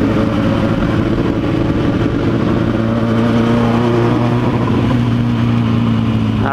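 A motorcycle engine runs steadily and loudly close by, holding a strong droning tone with slight rises in pitch as the throttle is worked.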